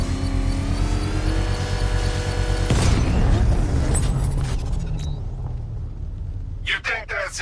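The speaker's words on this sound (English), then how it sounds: "I can use the power winch to trigger a controlled explosion" A controlled explosion of an exposed bomb payload in Batman: Arkham Knight, triggered by a power winch, bursts out as a loud booming blast over a steady rumbling drone and fades into debris and crackles, with speech-like game audio in the mix.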